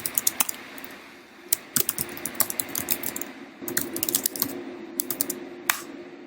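Rapid clattering of keys on a computer keyboard in uneven bursts with short pauses, close and fairly loud, with no voices.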